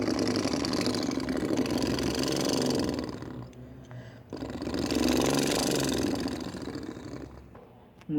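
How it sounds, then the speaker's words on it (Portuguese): A car engine revs loudly twice, each surge roaring up then dropping back toward idle, close and unaccompanied by speech. "eu quero que você acelere o motor para mim"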